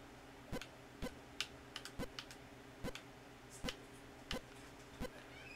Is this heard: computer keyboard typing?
yes